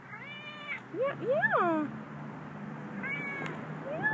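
A stray cat meows several times, rising and falling cries at close range. They come in two clusters, with a person murmuring briefly in between.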